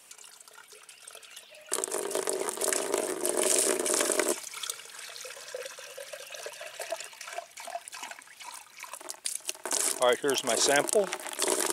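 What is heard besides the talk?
rinsing jar and collecting water sample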